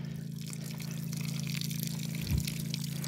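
A farm shed tap turned on during plumbing repairs, sending water rushing steadily through the pipes as a continuous loud hiss over a low hum, with a brief clunk midway.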